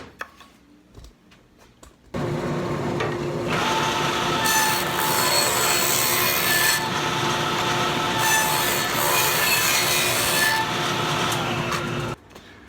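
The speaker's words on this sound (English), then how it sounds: "I put a dado blade in the table saw and we'll cut these grooves." A table saw fitted with a dado blade cuts grooves in wood for a kitchen box, starting after about two seconds of quieter handling and running as a loud, steady, broadband whine for roughly ten seconds before cutting off.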